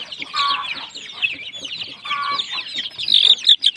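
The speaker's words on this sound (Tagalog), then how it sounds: "Napakasigasig ng ating mga alagang manok." Heritage chickens cluck and chatter nearby in a steady, busy stream of short calls, with a few sharper squawks toward the end.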